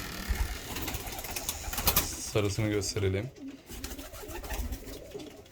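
Pigeons in a loft coo repeatedly, with clear throaty coos bunched near the middle. Other birds chirp and flutter around them, and someone talks over the birds now and then.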